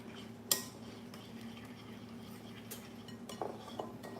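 A metal spoon lightly clinking against a dish while tasting homemade Caesar salad dressing in a home kitchen, a few faint, sparse ticks and taps over a quiet background hum.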